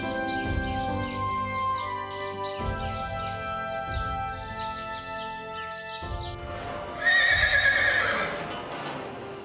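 Purebred Arabian horses neigh at a stud farm where pregnant mares and newborn foals are kept. Several loud, close whinnies repeat with hoof clip-clops, and the sound swells into a brighter, more intense call near the end.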